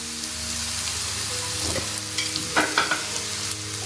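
Rice is tipped into a pan of cooked carrots and stirred in. A soft frying hiss sits under a few sharp scraping strokes of the spoon near the end.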